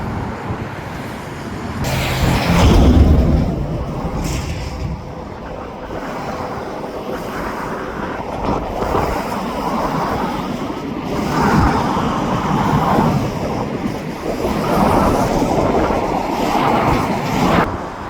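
CNR freight train cars roll past nearby in a continuous loud rumbling roar with wind-like hiss, swelling and easing without pause; no talking.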